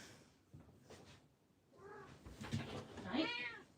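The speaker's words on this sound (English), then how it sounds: "Can I interest anyone in an annoying Siamese cat?" A Siamese cat meows indoors, several drawn-out, rising cries growing louder toward the end, with soft household rustling between them.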